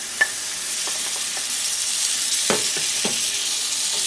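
Pieces of fried bottle gourd are stirred into a sizzling spice paste in a pan, with a steady close hiss broken by several soft scraping strokes of the spoon.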